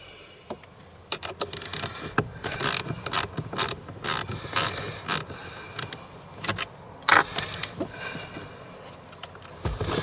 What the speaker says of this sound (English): So the battery leads are on with 10mm, so I'm just going to spin those off